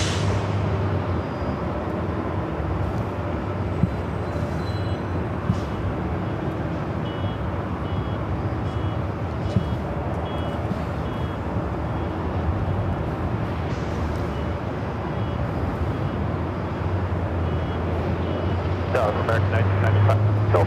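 A Delta Airlines Boeing 737-900ER jet at LAX lines up on runway 24 left, its engines giving a constant broad roar with a low rumble, while a voice talks over it, ending in some brief clicks.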